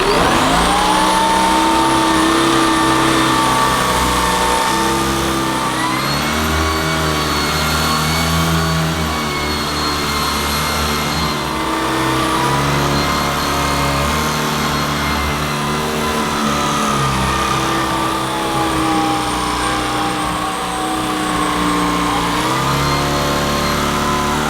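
A Shark Stratos IZ400UKT cordless stick vacuum sucks up pet hair, its motor giving a loud, steady whine that rises and falls in pitch as the speed changes over the stretch.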